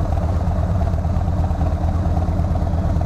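A motorcycle engine runs steadily at close range, a loud, continuous low rumble with a faint mechanical clatter and no change in pitch or rhythm throughout.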